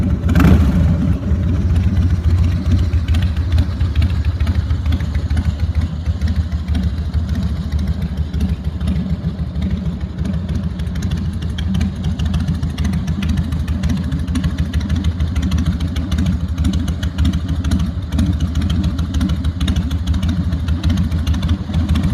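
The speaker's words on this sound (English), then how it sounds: "So I'll just start it up so you can hear what it sounds like." A Harley-Davidson Fatboy motorcycle fires up with a sharp start, then settles into a loud, steady, throbbing idle close by that holds for about twenty seconds with no talk.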